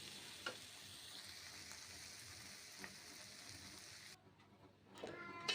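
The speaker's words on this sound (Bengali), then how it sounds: "ছোলা ভাজতে দিয়েছি। ছোলার সঙ্গে একটা আলু কেটে দিয়েছি।" Chickpeas and cut potato fry in a pan with a steady, close sizzle and occasional stirring clicks, dipping briefly quieter near the end before crackling up again; no one speaks.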